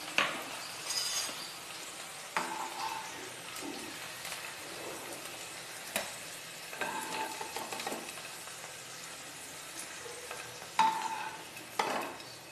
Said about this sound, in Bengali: ভেন্ডি আমি নাড়িয়ে চাড়িয়ে 5 মিনিটের জন্য ভালোভাবে ভেজে নিয়েছি